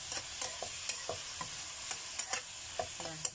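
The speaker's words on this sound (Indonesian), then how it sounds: "Kita goreng-goreng." Chicken with green chilies, tomato and a little oyster sauce stir-fried in a pan: a spatula scrapes and clacks against the metal in repeated strokes over a steady close sizzle, with no voices.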